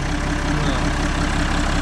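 A 156 hp Zetor tractor engine revving under throttle, a steady, loud, close diesel drone that holds evenly through the short stretch with no talk.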